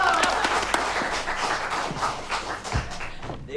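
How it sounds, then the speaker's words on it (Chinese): Audience applause in a prison hall welcoming a performer, a crowd clapping steadily with some thumps, fading slightly toward the end. "来来，这掌声让孙猴表演一下"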